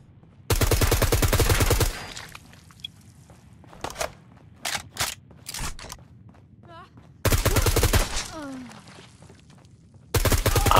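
Loud automatic gunfire in the game Fallout 4, in three long sustained bursts at the start, middle and end, with scattered single shots and thuds between them and faint talk underneath.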